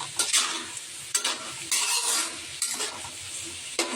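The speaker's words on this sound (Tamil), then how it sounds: "இப்போ பார்த்தீங்கன்னா நல்லா கிண்டி விட்டுருவோம்." Shredded cabbage fries in a pan over a soft sizzle, stirred in repeated bursts of scraping and tossing roughly every second, with light utensil clinks against the pan and no talking.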